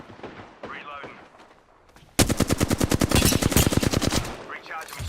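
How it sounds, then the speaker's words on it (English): Rapid automatic gunfire in Apex Legends erupts midway, a dense loud burst of shots following quieter in-game voice lines that return as the firing fades. "Being shot at."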